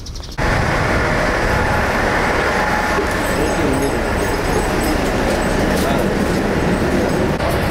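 Single-car diesel railcar at a station, a loud continuous engine rumble and rail noise that starts abruptly and holds steady throughout, with no clear talking over it.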